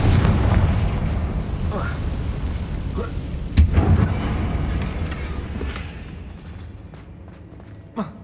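Confringo fire spells blasting in the video game Hogwarts Legacy, a few booming explosive bursts over continuous game audio and music, with one sharper blast partway through and a faint pop at the end.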